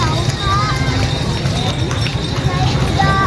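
Horses clip-clopping along a busy street in Malioboro, Yogyakarta, with steady hoof beats under constant crowd noise and traffic, while a person talks nearby.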